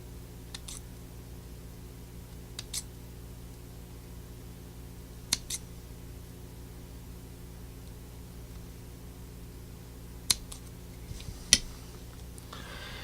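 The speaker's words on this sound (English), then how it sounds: "you can use a pair of scissors to trim off any excess that you might have" A few sharp scissor snips trimming heat shrink tubing, sparse and irregular, against a quiet low hum, each cut short and close.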